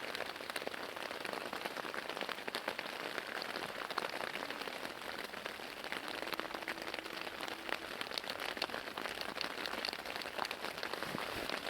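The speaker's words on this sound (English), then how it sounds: "Thankfully, in this situation, the rain brings warmth." Rain patters steadily on a surface around a campsite at night, a soft continuous hiss of many small drops with no voices, faint and even throughout.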